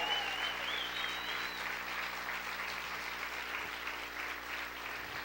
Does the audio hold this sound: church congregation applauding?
yes